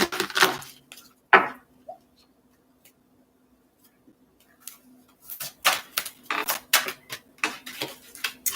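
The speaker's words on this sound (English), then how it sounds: "One more shuffle here." Tarot cards shuffled by hand during a reading, a crisp riffling burst at the start, then quiet, followed by a run of rapid papery flutters and snaps near the end.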